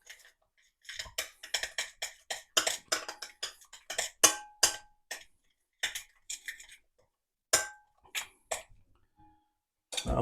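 A metal whisk is tapped and knocked against a pan after whisking a thick béarnaise sauce, making a quick, irregular run of sharp, close clicks and clinks with brief pauses between bursts and no voices.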